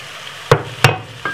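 Vegetables drop into a pot of sweet potato soup with garlic, making two sharp clunks about a third of a second apart, then a softer third, over a low background hiss.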